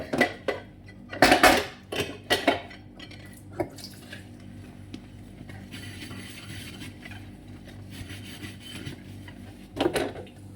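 Plates, cutlery and dishes clatter and scrape in a kitchen sink during washing: sharp clinks and knocks come in bursts near the start and again near the end, with softer rubbing and water handling between.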